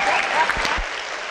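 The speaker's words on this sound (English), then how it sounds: "Give her a round of applause." A brief burst of audience applause at a startup conference talk in the Baltics, dense clapping from a crowd with a voice faintly over it.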